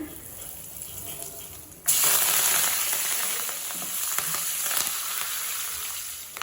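Mustard seeds, cumin and hing hit hot oil with a sudden loud sizzle after a quiet moment, then keep up a bright, crackling fry with scattered pops.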